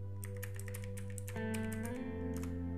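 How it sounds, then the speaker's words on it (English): Computer keyboard keys tapped in quick, uneven clicks while a login username is typed during an Arch Linux install in VirtualBox, close and clear over a steady electronic hum. "Now type in your correct login username"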